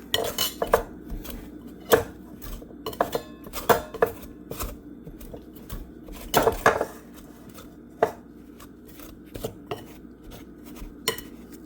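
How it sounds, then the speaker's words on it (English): Butter being cut and worked into flour for peach cobbler with a utensil in a bowl, giving repeated sharp scraping and clinking strikes in an uneven rhythm, close and fairly loud, with no talking. "So that butter incorporates into the flour like sand."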